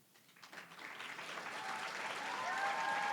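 An audience at the Wisconsin AmeriCorps anniversary ceremony applauds the program directors, a soft, fairly distant wash of clapping that builds steadily over a few seconds with faint voices mixed in.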